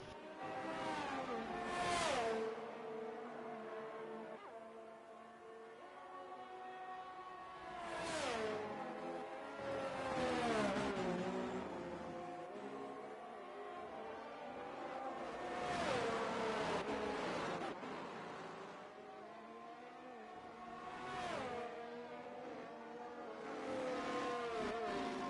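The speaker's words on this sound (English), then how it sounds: "the sound of the car doesn't seem to be matching where they are on the track" Formula 1 car engines in the F1 23 racing video game at the French circuit, rising and falling whines as the cars accelerate and shift, fairly faint and continuous, with no talk.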